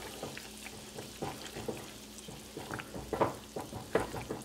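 Flour stirred into hot oil in a pan while making zmita, a steady close sizzle and fry with irregular scraping stirs and clinks of the utensil, no voices.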